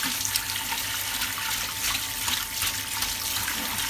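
Dishes get washed by hand under a running kitchen tap, a steady rush of water into the sink with soft splashes and faint clinks of plates and small bowls close by.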